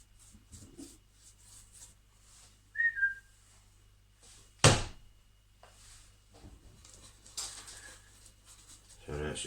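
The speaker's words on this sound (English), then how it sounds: "that's just me just whistling my dog who's gone upstairs when she's not allowed up there" A person whistles briefly to call a dog indoors, a short sharp whistle standing out over near silence, followed later by a loud clattering knock and scattered handling noises.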